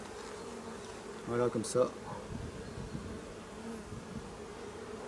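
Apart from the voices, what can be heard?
honeybee colony buzzing during hive inspection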